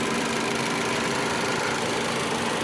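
A 2015 Ford Focus SE engine idles steadily and evenly throughout, a continuous mid-low hum with no revving, fairly close and moderately loud, with no voices.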